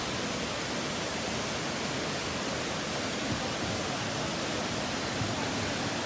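Wulai waterfall in Taiwan rushing in a steady, broadband roar, constant and unbroken, heard from a nearby terrace at moderate loudness.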